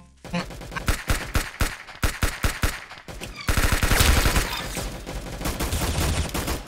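Rapid bursts of video game gunfire, first as clipped repeated volleys, then a denser sustained barrage of shots and impacts, loud and close throughout.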